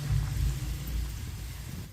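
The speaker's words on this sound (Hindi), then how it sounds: "ये मैंने 1 गिलास पानी डाला है।" Water is poured from a glass into a pot of rice for aloo matar pulao, a steady, full gushing splash that runs close and loud through the whole stretch, tapering slightly toward the end.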